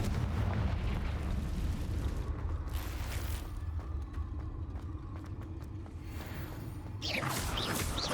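In the video game Hogwarts Legacy, the Confringo blasting spell sets off a heavy, rumbling explosion. A low roar fills the scene, eases in the middle, then swells again with a bright burst near the end.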